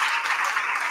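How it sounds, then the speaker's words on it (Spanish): Audience at a charity concert gives dense, sustained applause, many hands clapping together at close range with no break. "también a nuestra hermanita Maite Ibarra con un fuerte, fuerte aplauso."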